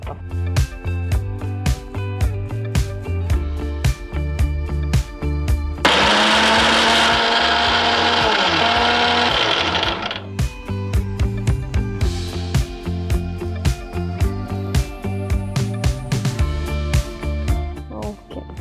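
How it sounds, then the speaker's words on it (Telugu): A mixer grinder whirs loudly for several seconds as it blends steamed tomatoes into chutney, a steady high motor whine between stretches of background music. "ఇది మిక్సీ పట్టుకోవాలండి"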